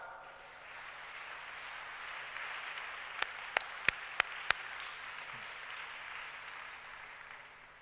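A church congregation at a Sunday service claps together, faint and distant, a steady soft patter lasting several seconds with a few sharper claps standing out midway.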